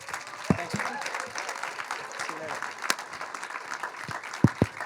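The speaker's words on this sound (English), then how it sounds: "Let's give him a preliminary applause." Audience applause at an arts of resistance festival, steady clapping from a crowd at moderate distance, with some sharper individual claps and a voice briefly audible over it.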